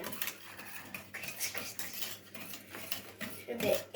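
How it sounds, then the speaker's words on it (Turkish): A spoon stirs pudding mixture in a pot, giving faint, irregular scraping and clinking of metal against cookware at close range, with a soft bright clank near the end. "Azıcık daha bir karıştırıyorum."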